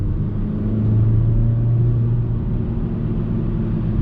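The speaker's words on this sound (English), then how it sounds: "Tasteful sound coming from the engine. It's nothing too buzzy." A 2019 Mazda CX-3 compact SUV engine hums while driving in traffic, heard from inside the cabin as a steady, muffled low rumble with a brief swell in revs, smooth and not buzzy.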